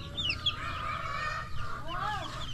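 Chickens in a farm run cluck and chatter near and steadily, with overlapping calls and no voices.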